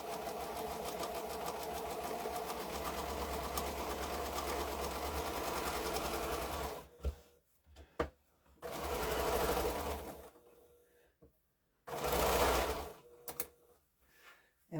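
Sewing machine stitching quilt pieces together, a steady rapid whirring run of about seven seconds followed by shorter bursts and stops with faint handling noise between them.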